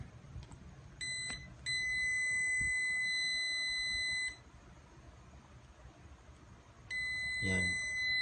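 A multimeter tester on a continuity check sounds two sustained electronic beeps, one about three seconds long and a later shorter one, against quiet room noise with a faint voice between them.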